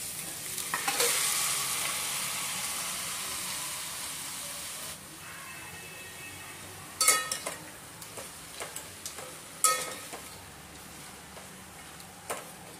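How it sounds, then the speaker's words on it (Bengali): Chicken for Lucknow biryani fried and stirred in a pan: a loud hiss at first that settles into a lower sizzle, then several sharp scraping stirs with the spatula close by. "চিকেনটা অ্যাড করে ভালো করে 5 মিনিটের মতো নেড়ে নিতে হবে।"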